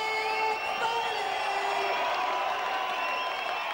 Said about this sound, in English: it's the applause of a rock concert for the model Greg Foley